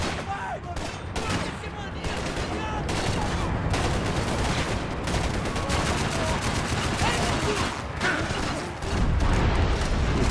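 Rapid bursts of gunfire in Max Payne 3 crackle continuously, dense and loud, with a heavier blast near the end, while a voice talks over the action.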